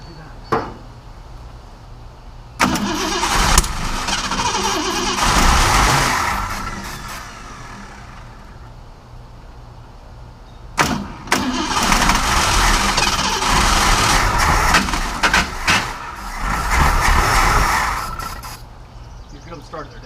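A 1965 Ford Mustang Fastback engine, fed alcohol fuel, cranks and fires up loudly in two bursts, roaring and revving close by before settling and cutting off, with a short lull between the starts.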